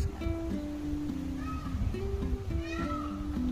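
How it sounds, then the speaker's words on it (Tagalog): Cats meow at a zoo, several rising and falling calls close together under steady background noise, with people talking over them. "No, may nagmamiyaw-miyaw doon, no?"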